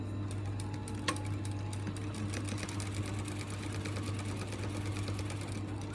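A sewing machine runs steadily while stitching a seam, laying a second line of stitches exactly over the first, with a continuous low motor hum and rapid, even needle clatter throughout.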